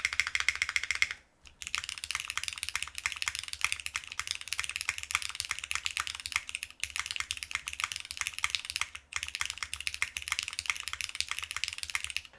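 Someone types steadily on a mechanical keyboard fitted with a plastic plate. The keystrokes come in a fast, dense clatter at close range, with two brief pauses, and no voices.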